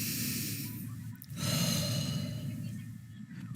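Slow, deep breaths for a mindfulness exercise, one long audible inhale and a drawn-out exhale, close and quiet with a soft breathy hiss.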